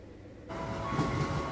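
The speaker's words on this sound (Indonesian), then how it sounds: "kereta kita datang" A KRL commuter train pulls into a station, rising after a quiet start into a steady rumble with wheel noise and a faint high tone, heard from the platform at moderate distance.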